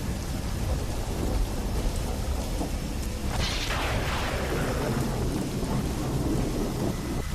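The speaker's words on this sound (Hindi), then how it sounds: "सिर्फ बारिश का पानी और बिजली की कड़कड़ाहट थी" Steady heavy rain pours throughout, and midway a thunderclap cracks and rolls off into a long rumble.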